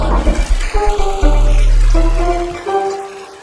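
A toilet flushes nearby with a loud rushing gush of water that tapers off over a few seconds, heard on its own in a domestic setting.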